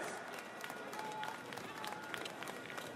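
A crowd applauds cyclist Emma White on the podium at the Heusden-Zolder cyclo-cross World Cup women's elite race, a faint, distant patter of clapping that continues steadily under an announcer's voice.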